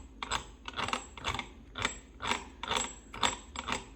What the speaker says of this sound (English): The only thing you hear is my new gearing on the motor, my 2533.